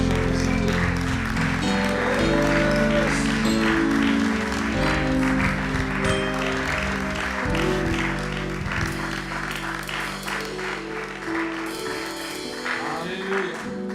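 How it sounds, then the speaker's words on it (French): A church congregation bursts into sustained applause to acclaim the Lord, loud and steady throughout, with organ or keyboard chords sounding underneath. "acclamer le Seigneur pour sa visite"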